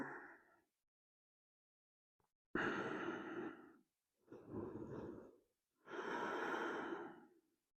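Slow, deep breaths during a stretching exercise: a short exhale, a pause, then three long audible breaths, close and clear in a quiet room.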